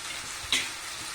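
Spices stirred into tomato curry frying in a pan give a constant close sizzle, with one short scrape of the spoon midway and no voices.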